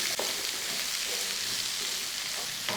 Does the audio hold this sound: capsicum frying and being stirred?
yes